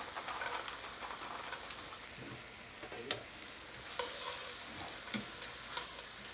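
Green beans with toasted sesame oil, Marcona almonds and a sweet-and-sour glaze stirred in a hot pan, a constant soft sizzle with a few sharp scrapes and clinks of the utensil against the pan bottom.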